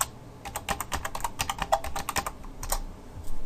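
Fast, uneven keystrokes on a computer keyboard as an email address is typed at a login prompt, close and clear with short pauses between bursts of clicks.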